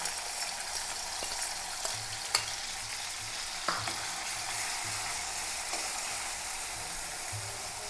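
Crushed onion, garlic and green chili sizzle steadily in a pan for an Angamaly-style fish curry, with occasional soft scrapes and taps of stirring over the constant frying hiss.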